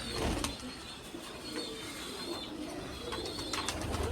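Pigeons coo softly in a loft, several low repeated calls against faint background rustle and hum, with no speech.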